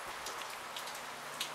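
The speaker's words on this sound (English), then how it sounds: "just in time to watch the storm rage on." A rainstorm pours steadily and close by, dense broadband hiss with scattered louder drop impacts, continuous throughout with no voices.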